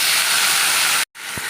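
Water poured into a pan of fried cumin paste and turmeric for a hilsa curry with potato and eggplant sets off a loud, steady steam hiss, broken by a brief silence before the sizzle resumes.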